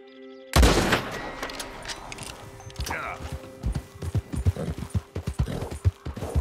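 Horse hooves in the video game Red Dead Redemption 2 clip-clop in an irregular rhythm after a sudden loud onset, with mechanical clatter and a steady tone in the background.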